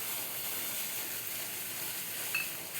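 Tomato paste added to hot oil with five-spice seeds sizzles in a pan, a steady, soft, even hiss with a faint metallic click near the end.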